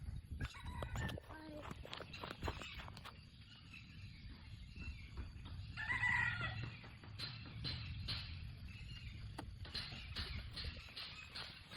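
Chickens clucking with a rooster crowing at a waterfall campsite, the calls moderately close over steady outdoor noise and soft background voices.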